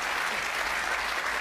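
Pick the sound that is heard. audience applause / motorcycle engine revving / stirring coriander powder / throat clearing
audience applause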